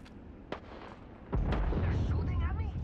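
Gunfire in the video game Apex Legends: a few faint distant shots, then a heavy booming burst that carries on as a loud rumbling barrage, with voices talking over it.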